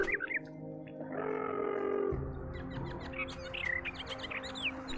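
Bird chirps and tweets in the video game Gothic 2, a run of short bright calls over an ambient game backdrop with a low tonal drone.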